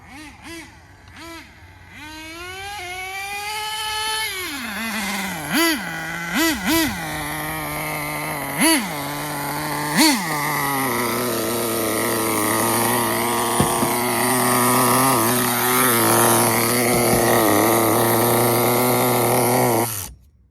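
A small nitro-powered HotBodies Tornado RC car with a BMW body idles and revs nearby, a buzzy whining engine rising in pitch with several quick throttle blips before settling into a steady high drone.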